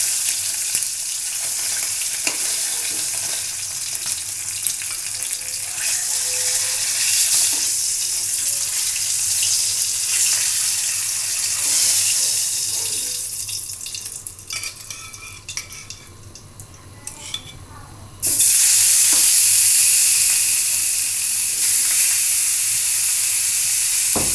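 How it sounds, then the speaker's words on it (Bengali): Tilapia fish fries in hot oil in a pan, a dense continuous sizzle and crackle with occasional utensil clinks, close and loud throughout, growing fiercer near the end. "একটা করেই ভেজে নিচ্ছি এখন হলো ভেজে নিচ্ছি"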